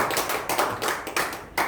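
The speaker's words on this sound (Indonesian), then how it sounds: "Tepuk tangan dulu buat Tuhan Allah kita." Applause from a church congregation during a sermon, a quick patter of claps arriving in short uneven bursts, moderately close and not very loud.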